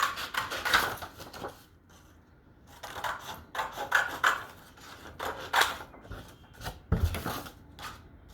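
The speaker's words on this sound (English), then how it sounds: "basically what we're going to do is just cut down the lines" Scissors cut through folded paper in short crisp snipping bursts, close and fairly quiet, spaced with brief pauses between cuts.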